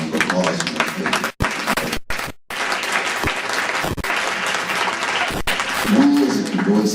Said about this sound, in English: if I can get a round of applause for that